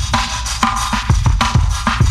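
A drum break narrowed to its low-frequency band, squashed by a compressor and gritty with a 12-bit bitcrusher, plays alone as a steady, loud loop of punchy kick and snare hits.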